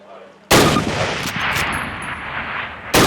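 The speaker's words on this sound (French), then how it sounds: "Maintenant, tirez 2 fois sur votre cible avec le viseur." A rifle shot rings out loud and close in a Call of Duty training range, its blast tailing off into a long rumbling echo before a second sharp report cuts in at the end.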